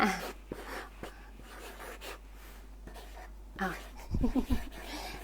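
Pen scratching across paper while a speaker talks through insurance planning, soft intermittent strokes under quiet speech and breaths, close to the microphone.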